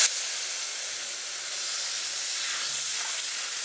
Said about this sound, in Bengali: কষানো হয়ে গেছে, এবার আমি একটু জল দিয়ে দেব।